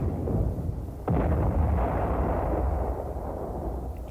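Booming artillery and explosion effects open the Royal Guardsmen's novelty record Snoopy's Christmas, a loud rumbling barrage with a sharp blast about a second in, carrying on steadily throughout.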